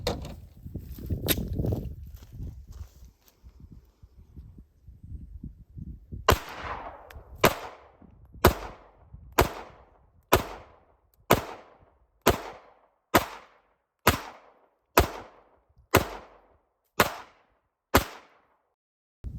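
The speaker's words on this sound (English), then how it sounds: "He's going to test fire the non-compensated Shadow Systems" Non-compensated Shadow Systems pistol test fired outdoors: after some quieter rustling and handling, thirteen sharp, evenly spaced gunshots ring out, each with a brief decaying echo.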